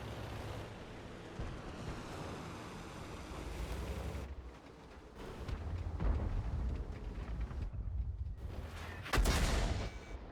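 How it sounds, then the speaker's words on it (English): Artillery fire in a tank video game, heavy booming blasts and rumbling, roaring noise over a continuous wash, with sudden loud impacts breaking through toward the end. "God, I hate artillery."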